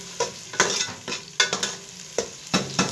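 Onions, curry leaves and green chillies frying in a pan while being stirred, with repeated scraping strokes over a crackling sizzle, close and distinct, about eight strokes in quick irregular rhythm.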